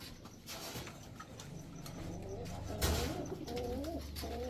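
Giribaz high-flyer pigeons coo softly and repeatedly at close range, low throaty calls rising and falling over a quiet background.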